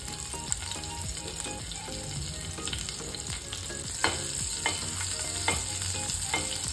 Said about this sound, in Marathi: मिरची चांगली फ्राय होऊन द्यायची आहे